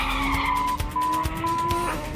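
A World Series race car cornering hard, its engine droning loud and close while the tires squeal and skid in a sustained whine with small pulses.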